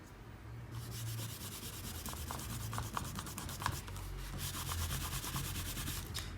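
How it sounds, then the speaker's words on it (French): A rubber eraser rubs out pencil construction lines on drawing paper, a steady scratchy scrubbing that continues in short repeated strokes throughout, fairly close and alone. "on peut gommer nos traits de construction"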